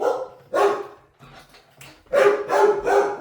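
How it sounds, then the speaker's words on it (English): Dogs barking indoors, several loud close barks in quick bursts with a short quieter yip between. "Yes, I have dogs and I love them dearly."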